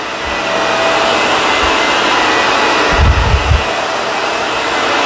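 A Shark Rotator vacuum cleaner runs steadily on carpet with a loud, close, continuous motor whine and airflow roar, with a brief lower thump of the head around the middle.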